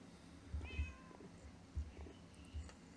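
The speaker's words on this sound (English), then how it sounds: "I'm going to grab my cat before she steps on my keyboard." A pet cat meows near a microphone during a gaming session at a computer keyboard, giving a few short, faint calls spaced across the moment over a quiet room background.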